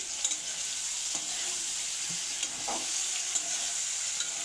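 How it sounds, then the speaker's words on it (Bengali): Food frying lightly in a pan, a soft steady sizzle with occasional faint stirring clicks, alone and fairly quiet. "আমরা অল্প ভেজে নেব, বেশি ভাজবো না"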